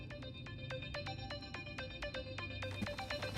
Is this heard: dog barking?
no